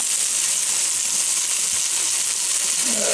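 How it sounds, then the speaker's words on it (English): Chicken wings sizzle and crackle on a Ninja Foodi grill, a steady close hiss of frying fat with no one talking over it. "That's some good sizzle right there."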